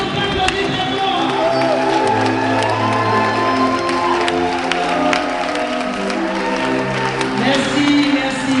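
Wedding guests at a civil ceremony applaud loudly and steadily for several seconds, a dense crowd clatter with scattered cheers and whoops mixed in, while voices murmur underneath throughout.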